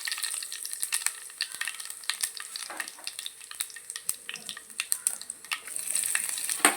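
Mustard seeds, fenugreek and dried chili fry in hot coconut oil, a close, continuous sizzle with sharp crackles and pops scattered throughout.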